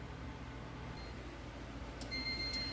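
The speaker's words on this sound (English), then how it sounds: "Okay, timer's gone off. Turn that off." A kitchen timer beeps while a turkey and vegetable casserole bakes, a faint, steady high electronic tone that comes in near the end over a low background hum.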